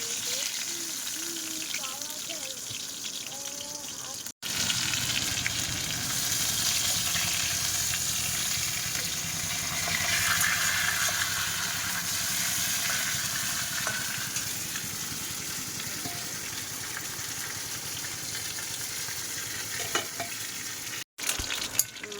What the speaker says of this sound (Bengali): মাছ কিন্তু খুব ভালো করে ভাজা করেছে, একদম কড়া করে।